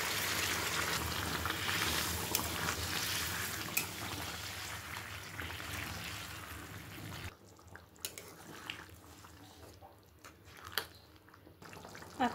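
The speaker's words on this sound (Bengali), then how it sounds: "খাসির মাংসের মধ্যে দিয়ে দিচ্ছি আমি গরম জল।" Hot water added to mutton curry cooking in a pot, a hissing, bubbling rush that cuts off sharply, leaving faint scattered clinks and crackles.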